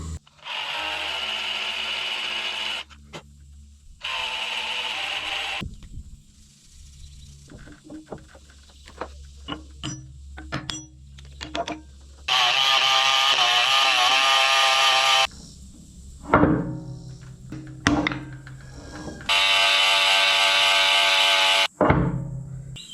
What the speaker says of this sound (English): I'm just using a die grinder